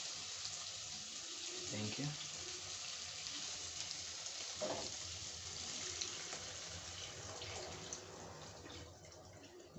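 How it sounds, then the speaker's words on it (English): Water pours into a pot of spice-blended meat on a home stove, a faint steady wash of running liquid throughout with a few brief clinks, and a voice speaks briefly. "So it's now time to add water."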